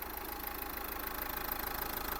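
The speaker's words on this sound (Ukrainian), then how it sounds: "Двигун працює чітко" Continuous Dacia Duster 1.5 dCi diesel engine idle, a steady mid-pitched rumble with a faint regular knock, holding level for the whole stretch with nobody speaking.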